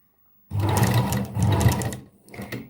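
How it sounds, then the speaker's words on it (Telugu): A sewing machine stitches around the back neck of a blouse in two quick rattling bursts after a moment of silence, followed by a shorter third run, close up and loud. "చుట్టూ స్టిచ్ చేసుకోవాలి"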